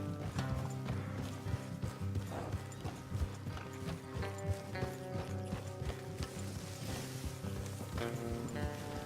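Horses clip-clopping and galloping at a steady run in Red Dead Redemption 2, hoof beats loud and continuous over a bed of game music, with a brief whinny; no talking.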